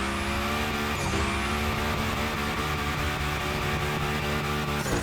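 A car in The Crew Motorfest drifts along a 360 Madman slide line, its engine droning loud and steady at high revs while the tires squeal, with one brief shift in pitch partway through.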